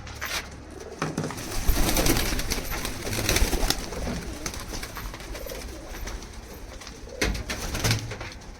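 Pigeons kept as pets cooing loudly and close up, a continuous layered chorus of throaty rolling coos from several birds with a few soft flutters.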